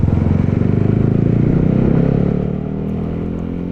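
A Honda CB150X motorcycle engine runs close by with a loud, throbbing rumble that rises as the bike pulls away, then eases to a lower, steadier drone.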